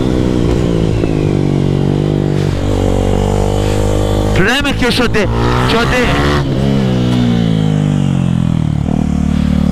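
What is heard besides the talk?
motorcycle engine revving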